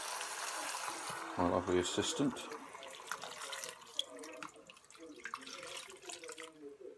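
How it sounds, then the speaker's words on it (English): Chicken stock pours into a pressure cooker pot holding a whole chicken and onions. The liquid splashes loudly at first and then trickles more quietly while people talk close by. "Pouring that in."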